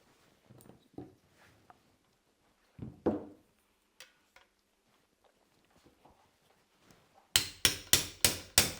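Hammer strikes on an AK rifle handguard retainer, driven in with the stock folded: five sharp, loud, evenly spaced blows close together at the end, after scattered quieter taps and handling clatter.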